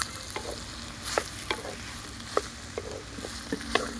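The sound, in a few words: ridge gourd stir-fried with dried prawns in pan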